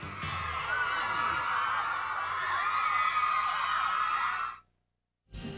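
A crowd of fans at a pop concert screams in a sustained, shrill roar that holds for several seconds, cuts abruptly to silence, then bursts back in at the very end.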